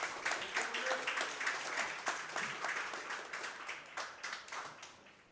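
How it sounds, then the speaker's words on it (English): A smattering of light applause from spectators at an indoor singles bowls final: scattered handclaps rise and fall, then thin out toward the end, heard at moderate distance and fairly quiet. "You could hear the smattering of applause behind us"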